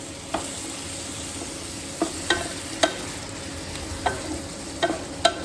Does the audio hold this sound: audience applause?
no